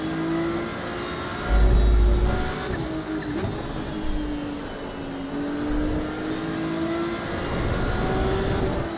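Race car engine in the Assetto Corsa Evo racing game revving steadily, with a sustained whine that rises and falls between gear changes, brief heavy low rumble bursts and continuous tire and wind noise, without talk.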